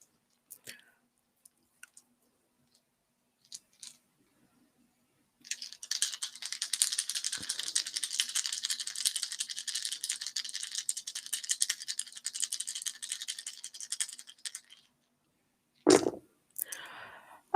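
Dice shaken in a hand for a psychic reading, a long dense rattle for several seconds after a few scattered clicks, then a short knock as they land, close and fairly quiet with no talk.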